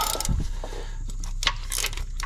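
A ratchet loosening 16 mm bolts in a garage, with quick clicking pawl sounds, metallic taps and tool rattles at close range, with no talk.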